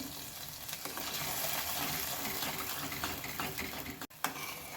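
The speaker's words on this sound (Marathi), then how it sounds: "आता आपण हे घालून घेऊया याला दोन मिनिट छान परतून घ्यायचं आहे" A paste of ground poppy seeds and dry fruit sizzles and fries steadily in a pan for kheer, with a brief clink of a utensil near the end.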